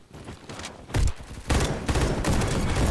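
FAMAS rifle firing in burst mode in the Roblox game Bad Business, several loud rapid bursts of close gunfire with short pauses between them.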